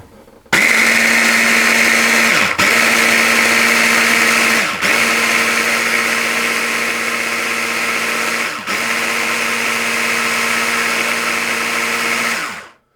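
A loud, steady high-pitched motor whine of an immersion blender grinding almonds and sugar, running continuously with a few brief dips where the motor stutters.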